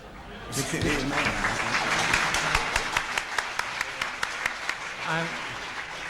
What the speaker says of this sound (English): I'm delighted with the applause from the architect.